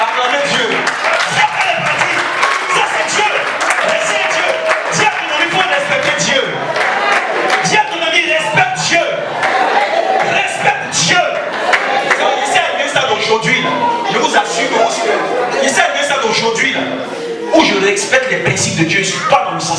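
A church congregation at a Sunday worship service loudly acclaims God, with a dense, sustained roar of cheering, shouting and clapping from many voices filling the room.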